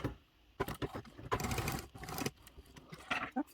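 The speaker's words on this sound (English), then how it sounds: "So we'll head back over to the sewing machine." A domestic sewing machine top stitching a sleeve along a bottom edge with a narrow seam allowance, running in several short and long bursts of rapid mechanical chatter with brief pauses between them, close and moderately loud.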